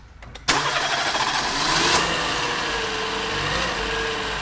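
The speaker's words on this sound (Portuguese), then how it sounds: "primeiro passo é dar partida no carro para ver se o alternador está carregando" A car engine cranks and catches during an alternator charging check on a car with a weak battery, then settles into a steady, close idle that runs continuously.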